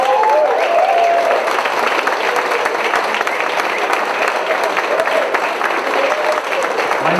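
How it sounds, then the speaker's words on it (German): A live audience at a German radio-play event gives loud, sustained applause for a performer, dense clapping close and continuous with a few faint voices and tonal hints underneath. "Applaus für Gordon Piedesack."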